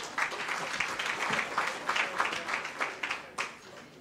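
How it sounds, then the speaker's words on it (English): Audience applause for a panel at a university accounting sciences symposium and book launch, a steady wash of many hands clapping throughout, with a few sharper claps standing out near the end. "Let's give the panel a round of applause."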